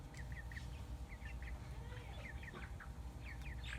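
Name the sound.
Delaware heritage chickens clucking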